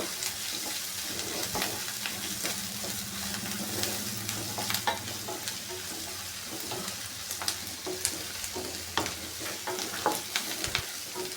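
Onion and green chilli fry in oil, a steady close sizzle broken by frequent crackles and stirring clicks, heard alone without any talking.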